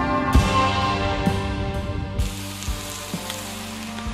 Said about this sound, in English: So we've got some battered fish. I'm frying up a piece for myself.